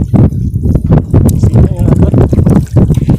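Strong wind on a boat buffets the microphone in loud, rough gusts, with heavy low rumbling throughout and a voice talking in Filipino under the noise.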